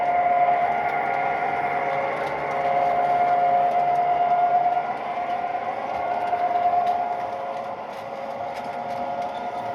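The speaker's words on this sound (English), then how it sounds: "this is the video that was shot of the train running that original stretch of track" A Shay steam locomotive on the Glacier Line sounds a long, steady whistle. The tone holds, breaks briefly and resumes over a low running rumble, fading somewhat at the end.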